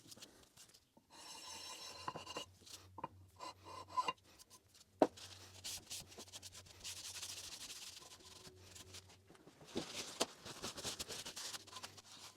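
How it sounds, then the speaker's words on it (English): A sharpening stone passed very lightly over the steel jaws of a Chinese milling vice: soft, intermittent rubbing and rasping strokes with small clicks and pauses, close up and quiet. "just very, very lightly pass the stone over them"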